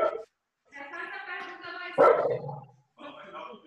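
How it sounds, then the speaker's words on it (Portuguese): A dog barks and yips a few times in short bursts close by, with people talking around it in a home setting. "O cachorro está fazendo uma pergunta também, é isso?"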